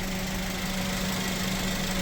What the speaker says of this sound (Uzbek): Ko'rishingiz mumkin, motorlari ham sodda ishlab turibdi.